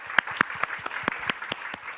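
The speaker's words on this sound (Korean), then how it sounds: "우리 박수 한번 하겠습니다" A church congregation applauds during a Korean worship service, giving light, scattered claps at an uneven rhythm, fairly close and moderate in volume.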